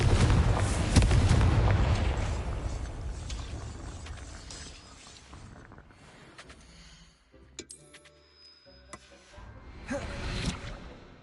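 Confringo spell blasts go off in a video game: booming explosions with whooshes come first, then quieter chimes, clicks and another burst later.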